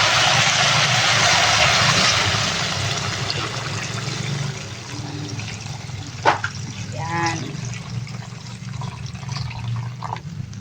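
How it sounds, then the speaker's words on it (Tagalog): Water pours steadily into a cooking pot with a loud rushing splash. It eases into quieter trickles and a few light clinks. "Pwede na natin lagyan ng tubig."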